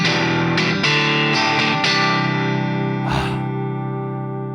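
Electric guitar played through a Palmer Eins pedal set with the tone almost fully open, heavy compression and slight distortion: several picked chords ringing with a bright, chimey sustain, then a brief scratchy strum before the notes fade out.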